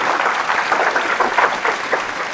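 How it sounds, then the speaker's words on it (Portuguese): Brief audience applause at a session on Angola's democratic state, dense clapping from a room of people lasting a couple of seconds. "Aplausos para Danilo Daniel."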